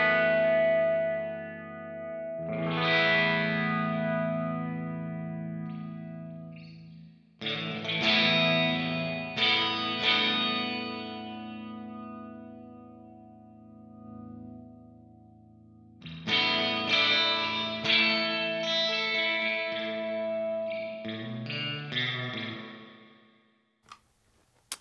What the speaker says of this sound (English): the first reverb we're going to have a look at is the first one that Kemper released, which was the Spring Reverb